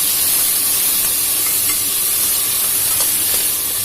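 Curry leaves, tomato and turmeric go into a hot pot for a Tamil mutton rib bone soup, raising a steady, loud sizzling hiss that runs unbroken and close throughout.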